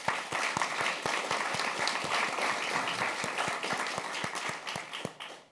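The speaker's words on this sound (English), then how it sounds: "this is a very good point in time to give them a very warm applause" Audience applause for panel guests at a discussion on Moldova, Georgia and Kazakhstan, a steady dense clapping from a large crowd that holds for several seconds and thins out at the end.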